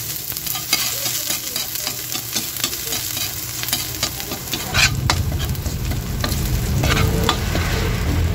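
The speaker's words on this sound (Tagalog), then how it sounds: "kaya ilalagay na natin itong ating bawang" Garlic dropped into hot oil in a pan for pork giniling, sizzling steadily with scraping stir strokes; the frying swells louder partway through and stays close and constant, with no talking.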